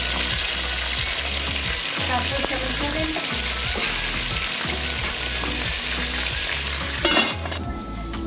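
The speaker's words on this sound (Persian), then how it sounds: "پیازها را ماندیم تا سرخ شود." Onions sizzle and crackle steadily in a hot pan with sugar added, a close, continuous frying hiss with a brief clatter near the end and a short spoken remark.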